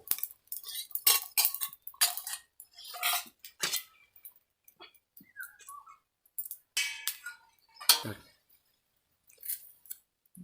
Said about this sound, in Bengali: এবার আমগুলোকে কেটে নেব।